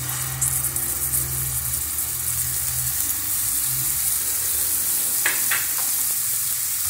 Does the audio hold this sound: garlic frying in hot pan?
yes